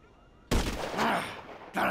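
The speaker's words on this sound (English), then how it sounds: "Gotta take another shot." A loud gunshot blast from a sniper-style weapon in Grand Theft Auto 5, fired at a moving jet, with a sharp onset and a long decaying tail, followed by the start of a second burst.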